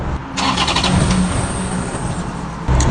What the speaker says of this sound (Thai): รถวีโก้สตาร์ติดแล้วดับ